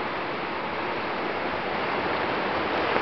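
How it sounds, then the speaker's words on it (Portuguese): Flood water rushes through a city street in a dense, steady roar, loud and continuous with no break, like a strong torrent close by. "isso daqui é enchente da cidade"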